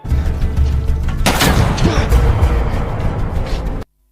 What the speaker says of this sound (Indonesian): tembakan keluar dari sebuah rumah menuju ke arah Scofield